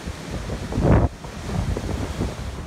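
Hurricane Michael, a Category 5 storm, drives extreme surf and wind: a steady roar of wind buffeting the microphone, with one louder surge of crashing water near the start that then falls back to a constant rush.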